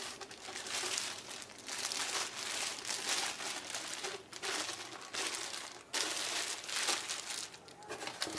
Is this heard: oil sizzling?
no